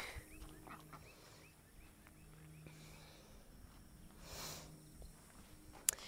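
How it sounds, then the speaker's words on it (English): Chickens and ducks in a garden chicken run in North Texas give off faint, scattered clucks and short calls at a distance, with low background hum and no one talking. "the chickens and ducks hang out over here and they get treats from the garden pretty frequently"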